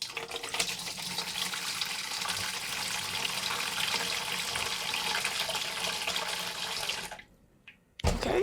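Tap water runs steadily into a sink while a green plantain is washed, a close continuous splashing rush that stops abruptly near the end, then briefly resumes.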